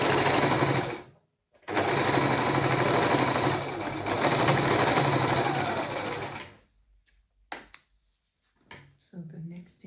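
Sewing machine stitching a skirt waistband for a child's handkerchief skirt, running loud and steady for several seconds after a brief stop, then cutting out into near silence with a few faint clicks and handling sounds.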